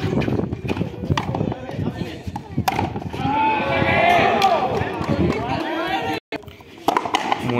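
Horse galloping during a race at a horse tournament in Cocula, rapid hoofbeats under loud crowd noise and an announcer calling, with shouting voices throughout.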